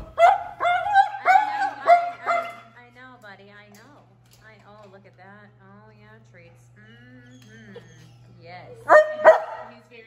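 Dogs at a humane society animal shelter bark in loud, rapid bursts at the start and again near the end, with a person talking in the quieter stretch between.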